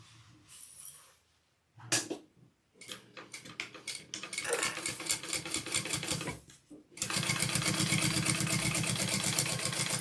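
A sewing machine stitches a Brivet backpack made of Moose Fiber in several bursts. It starts with short, stuttering runs of rapid ticking and ends in a long, loud, steady whir.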